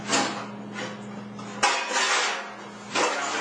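A pan clanks and scrapes on a stovetop in a few close, metallic bursts as sausage is set to cook for homemade pizza, amid a steady background hiss.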